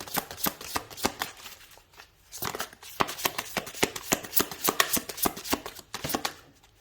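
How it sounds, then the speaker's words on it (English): Tarot cards being shuffled by hand, a rapid series of crisp riffling snaps and flutters close by, repeating in quick bursts with brief pauses, with no talking. "I'm going to pull some tarot cards now, just to clarify."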